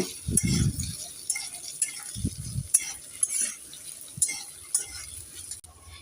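Potatoes and chopped onion stirred in a pan, irregular scraping and rattling strokes of a spoon against metal, a few heavier low scrapes among lighter clinks, close and moderately loud, with no talk.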